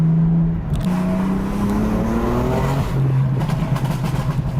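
A BMW F80 M3 with aftermarket downpipes revs loudly nearby, its pitch rising and dropping, with sharp exhaust crackles popping toward the end.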